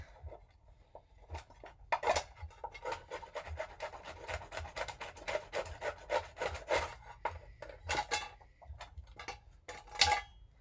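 A knife scrapes shavings off resin-rich fatwood in a series of dry, rasping strokes with small clicks, close but fairly quiet, and no talking.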